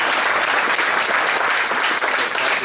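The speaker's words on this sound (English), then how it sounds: "Please join me again in a round of applause for all the current employees of this organization." A crowd applauds steadily at an organization's annual meeting, dense clapping filling the room from start to finish.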